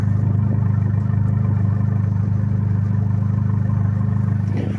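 Abarth 595 Competizione convertible hot hatch, warmed up in sport mode with its exhaust valve open, holds a steady deep exhaust rumble, close and constant throughout, with no voices.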